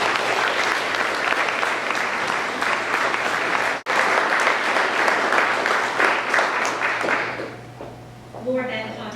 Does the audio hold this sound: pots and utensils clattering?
no